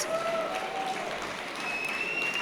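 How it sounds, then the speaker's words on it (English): An awards-night audience applauds itself, a steady, moderately loud patter of many hands filling the hall, with faint sustained tones running underneath. "Give yourselves a round of applause"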